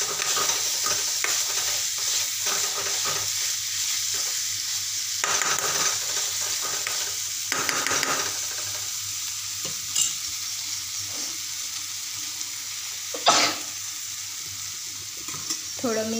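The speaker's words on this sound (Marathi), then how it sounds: "चवीपुरतं मीठ घालते व छान असं मस्त मिक्स करून घेते." A spatula stirs moth bean curry in a hot pan, giving a steady sizzle with repeated scraping strokes throughout, close up and with no talking.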